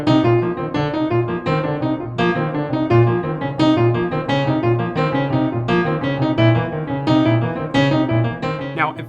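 Piano playing five-note scales in contrary motion, an even, steady run of clear notes rising and falling, close and moderately loud with no voices.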